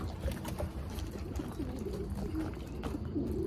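Racing pigeons coo softly at their loft, a few low, repeated throaty calls heard faintly against a quiet outdoor background.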